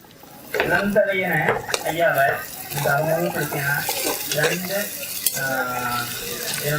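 Onions sauté in a pan with salt as a soft sizzle beneath a person talking steadily, with occasional clinks of a spoon or pan.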